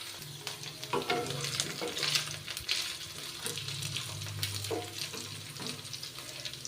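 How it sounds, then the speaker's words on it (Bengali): Potatoes and curry leaves fry in a pan for a Bengali vegetarian ridge gourd dish, making a steady close sizzle broken by occasional stirring scrapes and knocks, with no talking. "একটু ঢাকা চাপা দিয়ে একটু আলুটা ভেজে নেব।"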